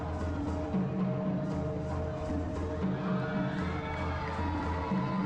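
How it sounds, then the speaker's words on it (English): A crowd at a family-friendly evening show at a Jamaican beach resort makes a murmuring wash of voices with children among them, steady and moderately loud under music. "As you can see, there's some kids in the crowd, so it was definitely family friendly."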